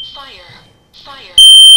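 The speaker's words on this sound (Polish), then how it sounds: "Właśnie alarm tlenku węgla." A carbon monoxide detector alarm cuts in with a loud, piercing electronic tone near the end, after a person speaks briefly beforehand.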